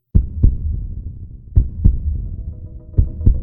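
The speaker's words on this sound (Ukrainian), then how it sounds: "Чуєш? Так лунає звук серця." Heartbeat, loud and close, a deep double thump repeating three times at a slow steady pace over a low hum.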